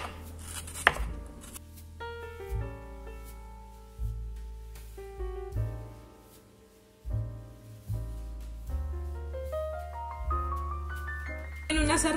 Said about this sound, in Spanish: La cebolla la voy a cortar así en rebanaditas, bien finas, bien delgaditas.